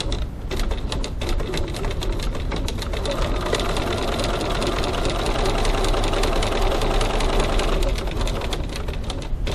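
A sewing machine runs continuously, stitching a card slot on a leather wallet panel with a steady rapid mechanical clatter that stays loud and even throughout.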